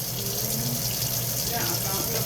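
Water poured steadily into a turkey roasting pan while a Thanksgiving turkey is being prepared: a loud, continuous splashing gush that runs without a break.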